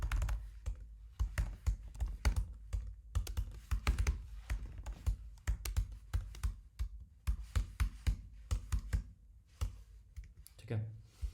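Rapid clicking of a computer keyboard as code is typed, with bursts of close, crisp keystrokes separated by short pauses. No speech is heard.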